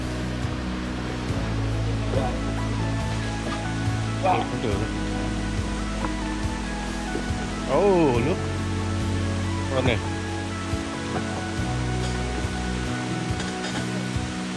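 Steady broadband rush of a waterfall on a steep hiking trail at Erfelek Tatlica Waterfalls in Sinop, Turkey, continuous throughout with brief speech and footsteps over it.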